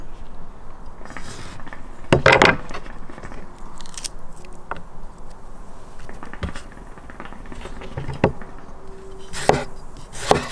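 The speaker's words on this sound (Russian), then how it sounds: "Так, помидоры нарезали." A knife chops tomatoes on a wooden board while vegetables are prepared for pan-cooked fish, giving irregular, close, crisp cuts with brief bursts of several quick strokes.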